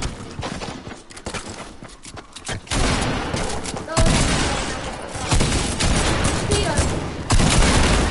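Rapid gunfire from an online shooter game bursts almost continuously, dense and loud, with short breaks between volleys while players talk over it.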